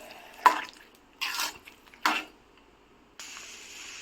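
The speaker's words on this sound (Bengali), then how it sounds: "সবগুলো দিয়ে ভালো করে মিশিয়ে নিব।" Olive pickle spices are mixed in a pot in a few distinct scraping, clattering strokes of a spoon against metal, separated by short pauses, close and fairly quiet, with no voices.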